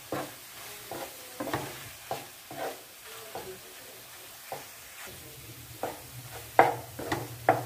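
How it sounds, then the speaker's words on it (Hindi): Moong dal is dry-roasted in a pan while a spoon stirs it continuously, giving a quiet, soft rhythmic scraping roughly every half second over a faint sizzle; nearby and fairly low in volume, no talking. "कंटिन्यूसली चम्मच चलाते हुए हमें दाल को अच्छे से भूनना है।"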